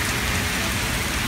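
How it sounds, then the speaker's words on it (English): Steady rain falls in a dense, even hiss of drops hitting surfaces, close and continuous with no voices, at Coney Island, New York. "A little bit rain."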